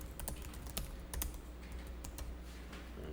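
Keys on a computer keyboard clatter in quick irregular bursts of crisp taps, close and fairly quiet over a low steady room hum.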